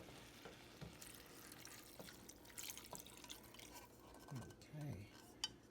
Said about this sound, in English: let me go and add my 1 cup of water.